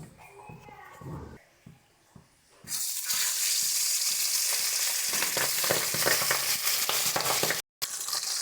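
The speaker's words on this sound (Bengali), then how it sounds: "এবার আমরা মাছগুলোকে ছেড়ে মাছগুলো ভেজে নিচ্ছি" Pabda fish sliding into hot oil for a paste-style curry, a quiet first few seconds giving way to a loud, dense frying hiss that holds steady to the end, broken only by one brief dropout.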